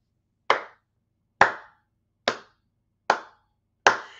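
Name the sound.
soft hand clapping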